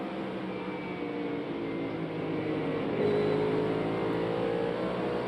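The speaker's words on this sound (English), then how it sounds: "it sounds like that car is tight just listening to the throttle" A NASCAR Cup car's engine at Bristol Motor Speedway during the Food City 500 holds a steady, loud droning throttle note that rises slightly in pitch partway through, with no voices.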